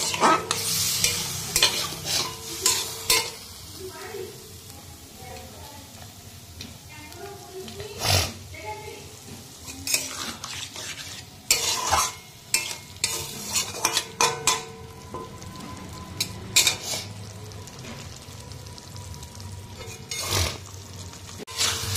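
Cauliflower, potato and egg stir-fried in a pan, with scraping and clattering of a spatula over a steady sizzle, punctuated by sharp metallic knocks; a voice talks at times over the cooking.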